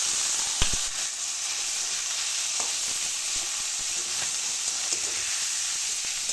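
Diced potato pieces sizzle steadily in hot oil with fried spices, including dry red chili powder, as hog-plum and small-fish sour curry is prepared; an even frying hiss continues alone, with a few sharp utensil clicks scattered through.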